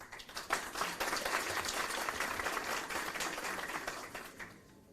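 Applause for a debate speaker from Salahaddin University being called to the stage, a fairly faint but dense patter of many hands that swells early, holds steady, then tapers off near the end.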